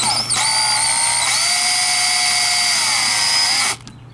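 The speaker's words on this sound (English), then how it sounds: "what I'm going to do is use my drill, hover right above it" A power drill whines steadily for several seconds while its bit hovers over and lightly marks hole spots for onboard air compressor wiring, close and loud, rising slightly in pitch partway through before cutting off abruptly.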